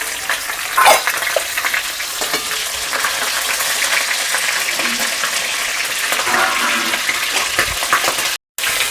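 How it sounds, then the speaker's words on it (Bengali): Fish heads drop into hot oil in a pan and fry loudly, a steady close crackling sizzle with a burst of spattering near the start and a momentary cut-out near the end. "তেলেতেই দিয়ে দেব মাছের মুড়ো"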